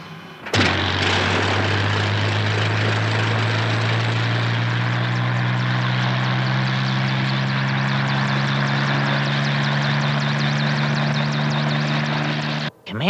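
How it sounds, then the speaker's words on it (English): A helicopter's engine and rotor drone steadily and loudly at close range, a low throbbing hum with a whining turbine tone above it, then cut off abruptly. "Commander Shore's special helicopter."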